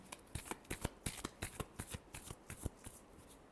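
Tarot cards shuffled in a quick series of crisp riffling bursts and soft slaps, close and steady, with no voices.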